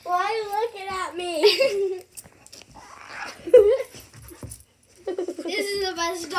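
A playful dog lunges and tussles while letting out whimpers and yips, the sounds scattered between bursts of excited child-like talking and giggling near the microphone.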